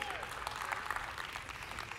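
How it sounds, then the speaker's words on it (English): A church congregation applauds its worship leader at a sermon service: continuous mid-distance clapping from a crowd, even and sustained, with a voice faintly audible beneath. "So give Jesse a round of applause."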